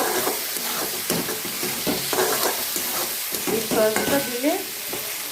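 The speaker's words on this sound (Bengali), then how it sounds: "এবার এই সসটা দিয়ে একটু নাড়াচাড়া করে" Vegetable soup laced with a splash of soy sauce is stirred in a pan, giving steady scraping and bubbling sizzle that runs throughout while a voice speaks briefly near the end.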